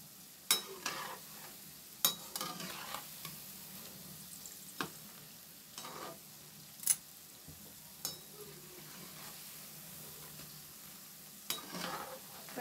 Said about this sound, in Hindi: थोड़ा सा और फ्राई होगा।